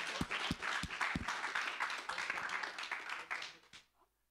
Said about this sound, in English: Applause for Inès.